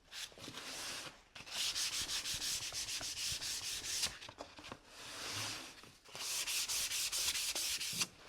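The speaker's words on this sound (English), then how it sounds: "I'll give it a light sanding with 320 sandpaper, just the face and the side and maybe this inside part" Light hand sanding with 320-grit sandpaper across a shellac-finished wooden frame, a close, steady scratchy rubbing in long rhythmic strokes, broken by brief pauses and a softer stretch midway.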